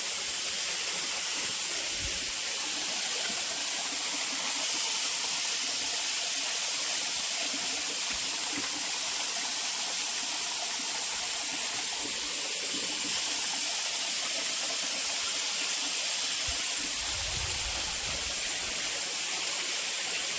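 Dabarkhola waterfall at Badamba pours in a constant rushing roar of falling water, a dense steady hiss without pauses, with a few faint low thumps beneath it and no voices.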